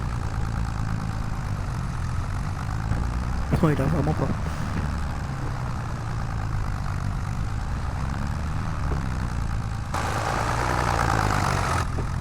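A heavy tractor engine drones low and steady, laboring under load while ploughing, as someone talks over it.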